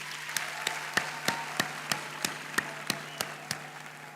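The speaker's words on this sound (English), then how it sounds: "Can we give them another round of applause" Handclaps in a steady, evenly spaced rhythm echo faintly through a hall as a graduation audience applauds a university choir; the sparse claps are separate and distinct, with no voices.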